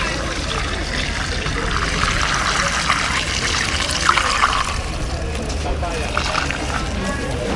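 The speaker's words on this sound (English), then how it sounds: "I'll take a funnel and put it inside the cylinder and pour" Water pours through a funnel set inside a cylinder, a continuous trickling, splashing stream running steadily throughout, fairly close, with some voice-like background mixed in.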